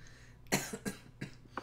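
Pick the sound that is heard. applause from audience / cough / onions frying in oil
cough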